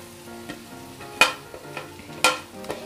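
Crushed boiled potatoes go into a pan for bread rolls and are stirred, with two sharp spoon scrapes and knocks over a soft, steady sizzle, close and without talking.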